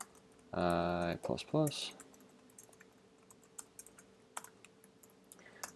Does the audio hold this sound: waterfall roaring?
no